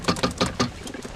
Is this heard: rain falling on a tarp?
no